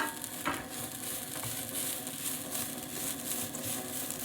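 Sliced onion fries gently in a pan over low heat while being turned, a soft continuous sizzle with faint stirring scrapes and no voices.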